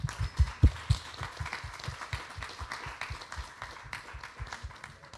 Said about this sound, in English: So can we get a round of applause for our founders today?